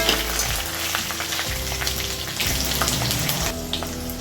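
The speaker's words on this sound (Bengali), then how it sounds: "সেদ্ধ করে রাখা আলুগুলো আমি একটু ভেজে নিচ্ছি ফোরনের সাথে" Boiled potatoes frying in hot oil with whole spices and ginger, a steady close sizzle with light crackles and occasional stirring scrapes, no voices.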